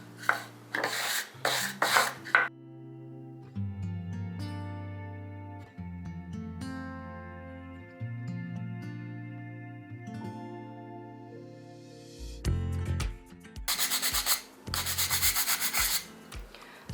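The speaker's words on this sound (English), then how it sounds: "I can't exactly wipe them down, but I can brush them down" Dry, scratchy brushing strokes over heavily textured wood pieces come in short bursts, close and fairly quiet, separated by pauses filled with soft background music.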